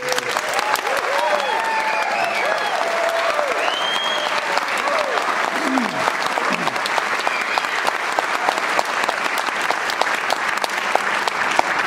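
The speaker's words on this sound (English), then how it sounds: "Really good applause." An audience at a live stage show claps loudly and continuously, dense applause holding at an even level throughout, with a few voices and whistles sliding faintly through it.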